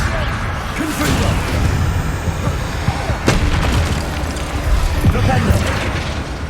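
Confringo explosion spell cast in the video game Hogwarts Legacy, a fiery blast with sharp booming impacts and whooshes amid busy combat noise, with a voice speaking over the action.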